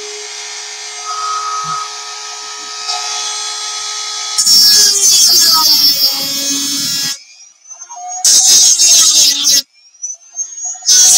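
Power tool cutting a part for a homemade toy blaster: a steady whine starts, then a loud, harsh cutting burst kicks in, stops abruptly, and returns in two more short, intense bursts close to the mic.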